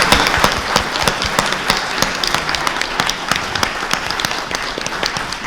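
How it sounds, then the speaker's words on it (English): Audience at a library conference plenary Q&A giving a round of applause, crisp overlapping claps steady and fairly close, no talking. "So, round of applause for the audience."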